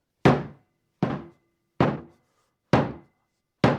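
A rake head is banged down onto its wooden handle five times, each a sharp, hollow wooden thunk spaced about a second apart, close and loud with quiet between strikes.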